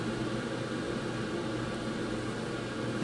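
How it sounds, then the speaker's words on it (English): An air conditioner running in a home in hot Arizona weather, a steady, even broadband whoosh with no change in level and no other sounds over it. "That background noise you hear is my air conditioner just turned on."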